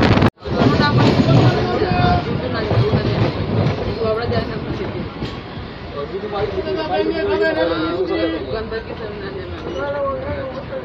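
An ICF-built EMU commuter train runs on rails near Naihati on the Sealdah–Barddhaman line, giving a steady loud rumble with rhythmic clickety-clack of wheels over rail joints throughout, after a brief sharp knock at the start.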